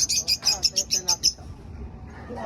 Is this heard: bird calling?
yes